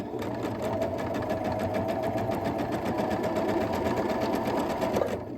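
A sewing machine runs steadily while stitching quilt block fabric, giving a rapid, even, continuous mechanical whir with a fast needle rhythm, close and loud with no pauses.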